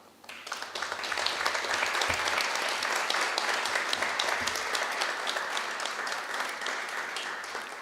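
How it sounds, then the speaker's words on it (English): Sustained audience applause at an annual awards banquet, a dense crowd of hands clapping that builds quickly and holds steady for several seconds, loud and full, with a few louder individual claps near the front. "please join me in a round of applause"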